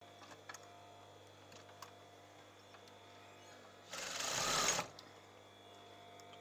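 Sewing machine running in one short burst of about a second as it stitches a seam on a velvet scarf, fairly close and steady, surrounded by quiet room tone.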